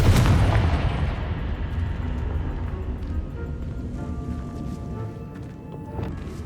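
Explosive spell blasts in the video game Hogwarts Legacy, a heavy boom at the start that decays into a rumbling tail, followed by scattered smaller crackles and impacts.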